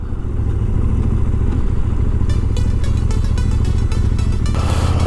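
A motorcycle rides through loose desert sand, its engine droning steadily up close with rising revs and clattering bursts toward the end, no talking.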